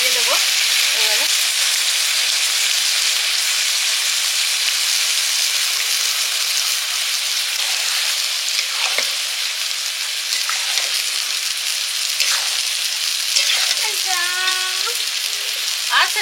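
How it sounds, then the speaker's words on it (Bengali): Meat sautéing in hot oil in a pan, a loud steady sizzle filling the whole stretch with occasional clinks and scrapes of stirring, close by and without talk. "এবারে মাংসর সঙ্গে কষবো, আবার মাংসগুলো দিয়ে দেবো।"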